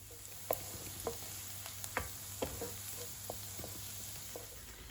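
Garlic frying in a pan, a soft, steady sizzle with occasional light taps and scrapes of stirring, close and fairly quiet.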